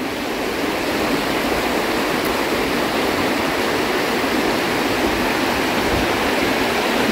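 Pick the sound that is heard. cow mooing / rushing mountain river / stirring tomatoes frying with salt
rushing mountain river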